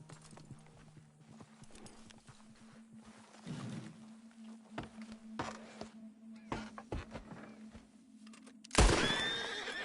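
In Red Dead Redemption 2 on PS5, a horse neighs loudly near the end after a stretch of hoof clip-clops and scattered thuds, with no talking.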